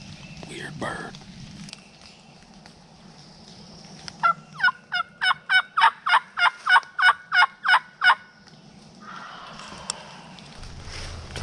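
A wild turkey gobbler in Illinois woods gobbles in a fast run of about a dozen sharp rattling notes at mid distance, with soft rustling and footsteps nearby before and after.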